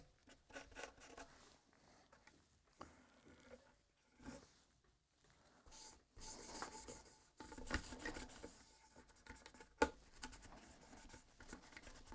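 Leftover oil being rubbed onto the wooden bridge saddle of a ukulele, quiet scratchy rubbing strokes in irregular bursts, close and faint, with brief pauses between.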